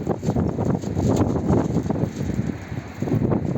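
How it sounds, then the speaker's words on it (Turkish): Strong gusting wind buffets the microphone outdoors at a pigeon-keeping spot, a loud continuous rushing roar with rising and falling surges throughout, no speech. "Hava çok şiddetli rüzgar arkadaşlar."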